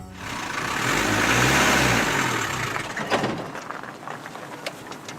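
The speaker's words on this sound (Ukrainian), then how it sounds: "А в одній зі сцен машина не змогла з першого разу завестися і поїхати." A car engine cranks and rumbles, failing to catch on the first attempt before revving up and pulling away, a loud close rumble that swells then fades with some clatter, during filming of Jumanji: The Next Level.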